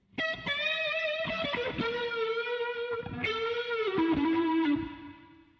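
Electric guitar with heavy distortion running through a Boss RT-2 Rotary Ensemble pedal, close and loud, with a rich swirling tone over sustained chords and single notes across several seconds.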